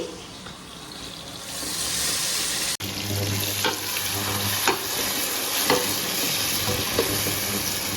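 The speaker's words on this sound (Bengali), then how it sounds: "এখানে শুধু এখন টমেটো আর পেঁয়াজটা একটু ফ্রাই করছি" Tomato and onion frying in a pan, a continuous close sizzle broken by a sharp clatter partway through, then utensil scrapes and stirring knocks over the hiss.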